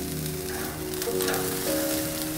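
Asparagus sizzles steadily on a grill as a few spears at a time are flipped, a loud, continuous crackling hiss with a tonal hum underneath, and no voice over it.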